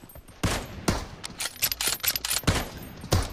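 Rapid gunshots in a one-on-one shooter video game, sharp loud bursts coming in irregular clusters over a few seconds, with no talk.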